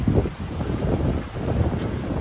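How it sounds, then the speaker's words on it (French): Strong wind above 20 knots roars steadily over open water during an Atlantic sailing crossing from Cabo Verde to Barbados, buffeting the microphone with a low, rushing rumble and no voices. "maintenant le vent est au-dessus des 20 nœuds."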